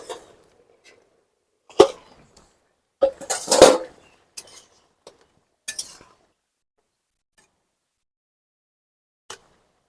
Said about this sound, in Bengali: এবার ঢাকাটা খুলে দেখবো সিদ্ধ হয়েছে কিনা।